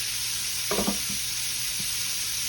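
Meat sizzling on a grill pan, a steady close hiss of searing with a brief low clunk and scrape partway through, no talk over it.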